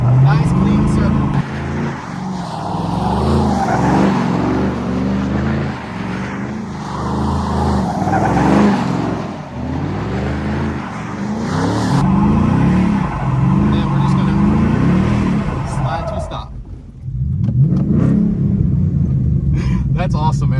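A flood-damaged Ford Mustang drifts in tight circles in second gear, its engine roaring and revving hard in a loud continuous rumble with rising and falling pitch, while people talk over it.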